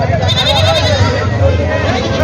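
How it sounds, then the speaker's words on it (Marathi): Goats bleat close by at a village goat market in Vasmat, Hingoli district, their wavering calls rising over a steady murmur of people talking. "विठ्ठल या जाती शेळी आहे"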